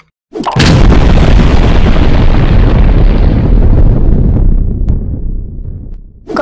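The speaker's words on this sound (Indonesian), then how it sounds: "Kok sini yang meledak?" A loud, sustained explosion in the video game PUBG roars for several seconds with heavy low rumble, then slowly fades out; no voices.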